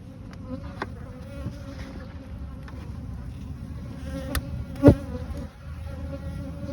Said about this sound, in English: I think I just saw a bee go in there with pollen.